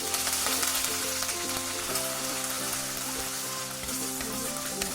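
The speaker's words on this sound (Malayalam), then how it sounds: "ഇനി ഇതിലേക്ക് 1 ടേബിൾ സ്പൂൺ ജിഞ്ചർ ഗാർലിക് പേസ്റ്റും കൂടെ ആഡ് ചെയ്തു." Ginger garlic paste fries in hot coconut oil, a steady dense sizzle with crackling and occasional stirring, heard close and continuous under soft background music with no talking.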